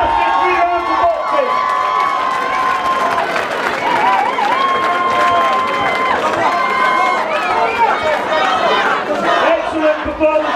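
A boxing crowd at a white collar event in Walsall claps and cheers steadily throughout, with an announcer's voice and shouts carrying over the sustained noise of the hall.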